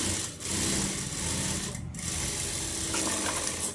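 Sewing machine running a normal stitch along a cut piece of shaped belt lining, a close, continuous mechanical whir with a brief dip in the middle and no voices.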